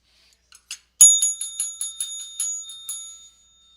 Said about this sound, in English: Let's try to ring the bell.